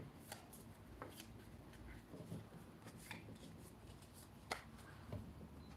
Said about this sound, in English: whenever you look through your deck, you have to give it a good shuffle